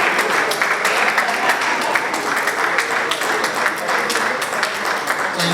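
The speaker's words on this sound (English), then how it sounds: "Please continue to clap for my Lord until he takes his seat" Sustained audience applause at a Nigerian Bar Association branch opening ceremony, dense even clapping from a large hall crowd, continuous and fairly loud throughout with no pauses.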